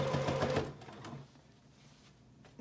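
A sewing machine stitches a child's apron, its needle running in a fast, steady whir that is loud at first, then drops to a quieter hum before picking up again at the very end.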